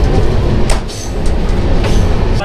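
The Raxaul to Howrah Mithila Express passenger train runs on rails into Muzaffarpur Junction, heard from inside as a loud steady rumble broken by periodic clacks of wheels over rail joints.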